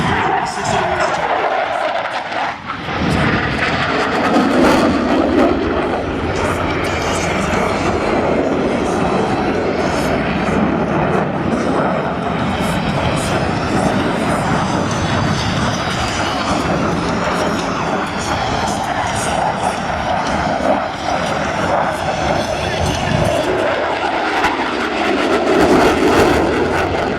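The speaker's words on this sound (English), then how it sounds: "He's going to go ahead and light an afterburner just before he hits that show center" An F/A-18E Super Hornet jet roars past with its afterburner lit during an air show demonstration at Sun 'n Fun 2012, a loud, continuous broadband rumble that swells and shifts as it passes.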